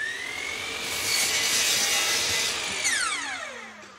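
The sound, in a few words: power saw cutting plywood to length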